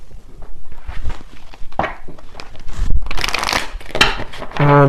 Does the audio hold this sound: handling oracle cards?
yes